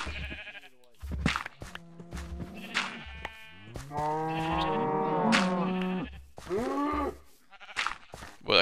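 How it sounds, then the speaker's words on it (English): Farm livestock, a cow trying to get out, lows and bawls in several drawn-out calls of rising and falling pitch, close and clear, with brief knocks between them. "that cow's trying to get out too"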